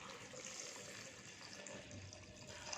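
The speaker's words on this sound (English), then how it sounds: "Here also I put all the water, 800 milliliter of water." Water, 800 ml, poured steadily for strawberry juice, a continuous close, moderately quiet liquid stream running unbroken from start to finish with no talk.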